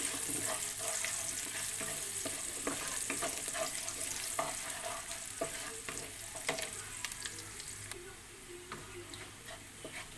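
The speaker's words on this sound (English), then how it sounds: "So now we will use same oil to fry our garlic and onion." Garlic and onion frying in reused oil in a pan, a steady crackling sizzle with frequent light ticking stirs and utensil taps, close and continuous, easing slightly toward the end.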